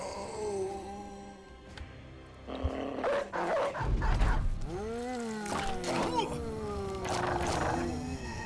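A dog barks and yelps amid the clamor of a Battle Brothers battle, with growling, roaring creature cries and clashing noise building over several seconds, loud and close.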